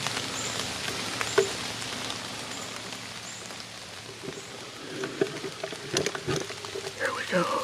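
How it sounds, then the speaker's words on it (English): Rain falls steadily during a morning deer hunt outdoors, a continuous patter with scattered sharper drops and some rustling and handling noise near the end. "This rain sucks."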